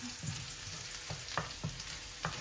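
Garlic sizzles in butter in a pan for garlic butter shrimp, a steady close crackle broken by a few scraping stirs of a utensil, with no talk.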